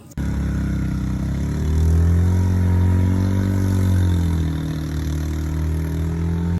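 A motorcycle engine labours in first gear up the steep Keokradong road, a steady loud drone that swells slightly in pitch midway and holds on throughout with no voices.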